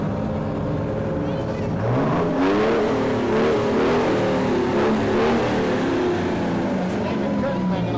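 Off-road vehicle engine revving in a Christmas parade, a loud rumbling rev that rises and falls in pitch several times, with crowd talk mixed underneath.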